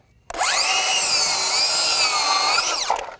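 A Craftsman V20 brushless 7-1/4-inch cordless circular saw running on a 2 amp-hour battery cuts through wood. The motor whines up sharply, holds a loud, steady high-pitched cutting scream for about two seconds, then winds down.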